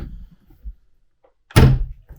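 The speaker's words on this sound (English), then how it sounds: "Doors are soft close, though." Soft-close cabinet door in a 2024 Alliance Paradigm 380MP RV shutting with a single muffled thunk after a few faint taps, close and alone.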